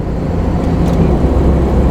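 A 1960 Jensen 541R with its lightweight, big-torque six-cylinder engine drives along, giving a steady, even low rumble with road and cabin noise and no sharp changes.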